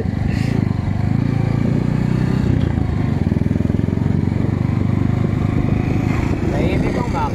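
A Bajaj motorcycle engine fitted with a 56mm regrind cam runs steadily up close, giving a loud, continuous low rumble that holds throughout without any clear rise or drop in revs.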